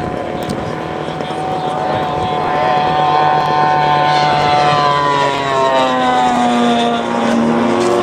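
A radio-controlled scale model airplane engine whines loudly nearby at a model aircraft competition, its buzzing pitch sliding up and down as it flies past, with voices faintly underneath.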